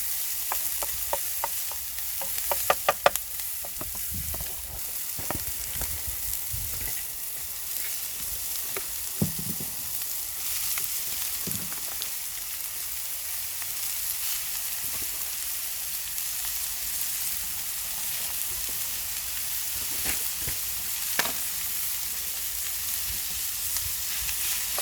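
Spaghetti bolognese sizzles in a pan on an outdoor cooker in the woods: a steady, close frying hiss with scattered pops and clicks, and no talking.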